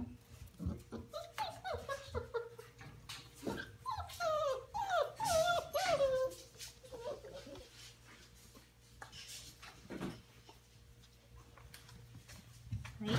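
Dogs sound off at six-week-old puppies: a cluster of high, wavering yips and whines in the middle, with low growling and a few sharp barks scattered around it, fairly close over a quiet indoor background.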